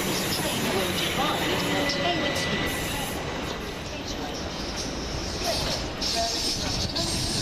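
A Thameslink or Southern electric multiple unit passes through East Croydon station, a loud steady rumble of wheels on rail with faint squeals, close and continuous, with a voice speaking over it.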